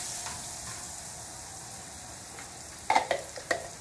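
Garlic frying in a pan makes a quiet, even sizzle, broken near the end by a few sharper crackles and pops.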